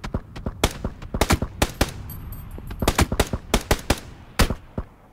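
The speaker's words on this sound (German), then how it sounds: "Die schießen von oben." Gunfire in the video game PlayerUnknown's Battlegrounds: repeated sharp shots in quick bursts and single cracks, fairly close and loud, scattered across the clip with no voices over them.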